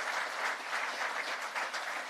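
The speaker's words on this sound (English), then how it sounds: "Give a round of applause to Saint Anselm" An audience claps steadily at a campaign event in a historic venue in New Hampshire, dense sustained applause filling the room with no voices over it.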